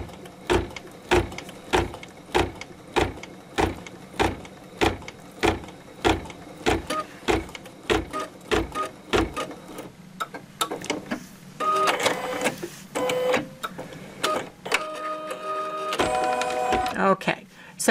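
An embroidery machine stitches out a cutwork coaster in a hoop, first with a regular rhythmic thumping of the needle and then in a denser, busier run of whirring and clattering, with a person talking throughout.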